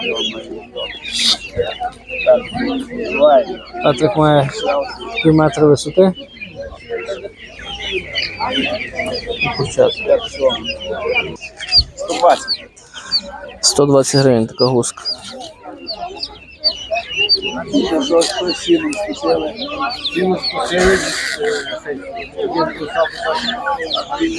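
Chickens and chicks cluck and squawk repeatedly amid a busy, noisy Ukrainian animal market, with people talking throughout over the steady poultry chatter.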